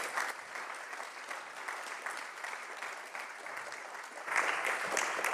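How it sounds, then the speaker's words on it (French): An audience at a live debate on experts in democracy applauds with moderate, steady clapping that swells louder near the end. "Merci à tous les 3, on peut les applaudir."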